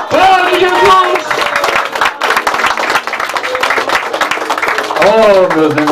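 A church congregation claps and cheers during a worship service, with sustained dense applause running the whole time beneath a loud, impassioned preacher's voice.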